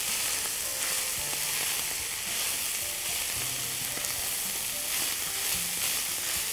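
Minced meat, onion and green pepper fry in ghee with a constant close sizzle, while a spoon stirs and knocks intermittently against the pan; no voices.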